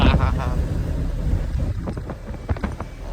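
Cool wind gusts buffet the microphone in a steady, rough rumble that swells and eases, with faint voices underneath.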